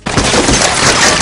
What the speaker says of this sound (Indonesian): Di tengah suara tembakan